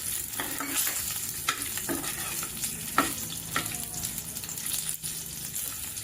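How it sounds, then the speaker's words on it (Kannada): Ginger and garlic fry in a pan with a steady, close sizzle and occasional soft stirring scrapes throughout. "ಈಗ ಶುಂಠಿ ಮತ್ತು ಬೆಳ್ಳುಳ್ಳಿನ ಹಾಕೊಂಡು ಫ್ರೈ ಮಾಡ್ಕೊಳ್ಳಿ"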